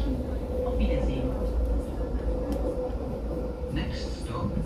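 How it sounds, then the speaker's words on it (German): A Munich S-Bahn commuter train runs with a steady low rumble and rolling hum throughout, loud and continuous, with faint higher squeals near the end. "Wir bedanken uns für Ihre Fahrt mit der S-Bahn München."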